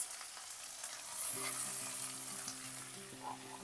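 Tomatoes, onions and carrot sizzle steadily in butter in a pan for tomato sauce pasta, a soft close fry with faint stirring and a thin tonal hum underneath.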